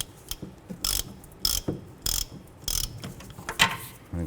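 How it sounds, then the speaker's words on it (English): A ratchet with a 14 mm socket snugs up the rear wheel hub bolts on a Toyota Camry, giving close, crisp clicking bursts in a steady rhythm of about five pulls with short pauses between. "using a 14 millimeter, we're just going to go ahead and snug these up"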